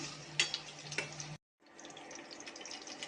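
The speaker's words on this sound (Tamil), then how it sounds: "கட் பண்ணி வச்சுருக்க வெண்டைக்காயை எண்ணெயில் போட்டு பொறிச்சு எடுத்துக்கலாம்" Cut okra fries in hot oil with a bright, crackling hiss and a couple of sharp pops. The sizzle stops briefly in silence, then resumes as a quieter, steady frying.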